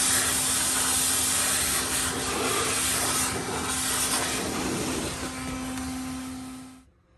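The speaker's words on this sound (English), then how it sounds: "now let's go ahead and use that as a regular vacuum again" A vacuum cleaner runs loudly and steadily with a constant whine while cleaning a Samsung refrigerator's condenser coil, its suction note shifting slightly before it shuts off at the end.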